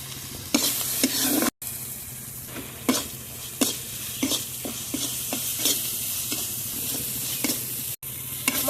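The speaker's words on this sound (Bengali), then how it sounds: "মশলাটা খুব সুন্দরভাবে কষিয়ে নিয়েছি।" Spice masala stir-fried in a pan for Bengali taki fish curry with tomato and potato, a close sizzle broken by repeated spatula scrapes and knocks against the pan in an uneven rhythm, with two brief dropouts.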